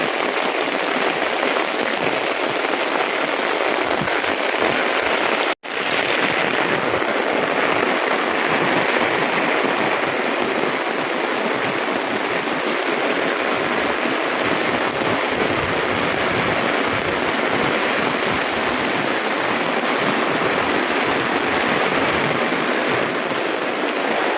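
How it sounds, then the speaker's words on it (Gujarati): Steady rainfall in Ambaliyasan village, Patan, patters loudly and evenly on nearby surfaces, a constant wash of drops with a brief dropout early on and no talking. "વરસાદ ચાલુ થઈ ગયો ફૂલ અમારા ઓબલિયાસણ ગામમાં તમે જોઈ શકો છો"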